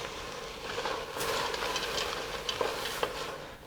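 Onion cooks in a pan for a bolognese sauce, giving a quiet, soft sizzle broken by a few brief scrapes and taps as it is stirred.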